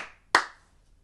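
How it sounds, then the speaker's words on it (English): A single sharp hand clap rings out once during a children's song, closely miked and decaying quickly into quiet. "clap your hands."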